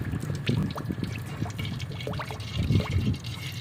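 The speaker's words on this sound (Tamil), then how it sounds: "தாச்சி நல்லா காஞ்சிட்டுது அதுக்கு நாங்கள் எண்ணெய் ஊற்றுவோம்" Oil is poured into a dried frying pan for Jaffna-style thenkulal, a close, soft liquid trickle and splash that runs continuously for a few seconds with small gurgling surges.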